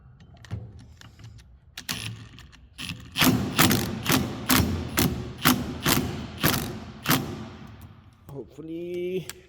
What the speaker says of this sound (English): There's 3 screws that hold the plate to the knuckle. So we're going to go ahead and loosen those up.